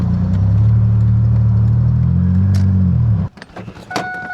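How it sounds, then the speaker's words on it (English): Car engine idling roughly with one cylinder misfiring, a loud uneven low drone that cuts off abruptly, followed by faint clicks and jingling keys. "One of my cylinders is just not firing right now."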